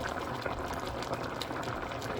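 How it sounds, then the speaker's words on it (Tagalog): A pot of Bicol Express, a coconut milk stew, bubbling and simmering steadily, a soft continuous burble of boiling liquid heard up close. "Kumukulo-kulo na siya guys ang ating"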